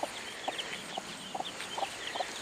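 A hen clucks several times in short, soft bursts at an uneven pace over low background noise.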